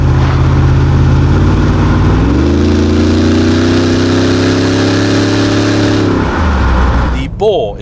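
A Hartge-built 5-litre BMW V8, bored and stroked from the stock 4.4, in a 2003 BMW X5 rumbles loudly up close, rising in pitch as it revs, holding, then dropping back to idle.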